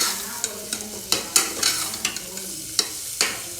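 Soya pulav ingredients frying in oil in a pan, a steady close sizzle punctuated by sharp spatula scrapes and stirring clacks at irregular intervals.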